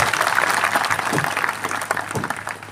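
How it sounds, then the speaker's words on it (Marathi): An audience at a Diwali Pahat music programme breaks into applause for the performing artists, a dense, lively wash of many hands clapping that stays loud, then gradually thins toward the end. "त्यांच्यासाठी एकदा जोरदार टाळ्या वाजवल्या पाहिजे सगळ्यांनी"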